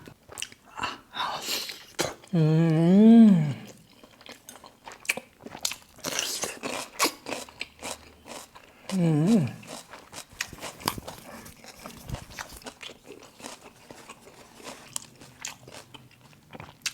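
Crab meat (poo jor) with chili is bitten and chewed close to the mic in a run of soft wet crunches and smacking bites, broken by two loud sharp vocal exclamations, with talk between mouthfuls.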